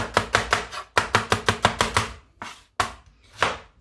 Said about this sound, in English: just cut the onions like Juliana style